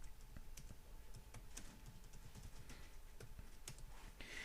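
Typing on a computer keyboard: scattered, irregular key clicks over a faint steady hum, quiet and close, with no voices.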